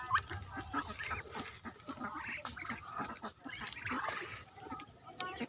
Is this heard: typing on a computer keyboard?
no